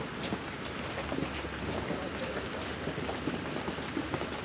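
Heavy rain pouring down in Kudal, Sindhudurg, in the forested Konkan region, a steady dense hiss of drops drumming on surfaces without a break.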